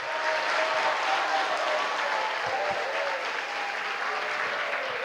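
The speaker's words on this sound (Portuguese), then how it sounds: "Aplauda Jesus de Nazaré." A church congregation at a Sunday worship service bursts into loud, sustained applause, a dense wash of clapping from many people that continues steadily throughout.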